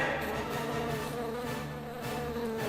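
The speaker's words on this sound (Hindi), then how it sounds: "बंद करो ये शोर, मेरे कान ये भिनभिनाहट की आवाज बर्दाश्त नहीं कर पा रहे।" A swarm of bees buzzes in an animated cartoon, a dense steady droning hum with overlapping wing tones, close and sustained without any speech.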